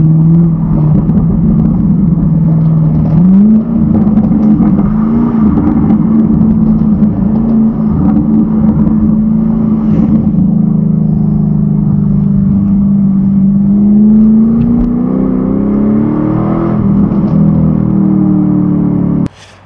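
A Camaro SS engine hums steadily and close, its pitch rising and falling as it revs and shifts gears while driving along.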